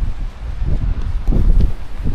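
Gusty wind in the Kananaskis mountains buffets the microphone with low rumbling surges, loud and steady throughout, with no voices.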